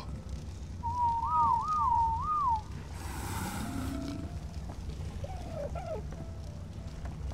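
A short melodic whistle in a Lord of the Rings video game trills up and down three times, clear and fairly loud, followed by a brief burst of rushing noise and a fainter second whistle.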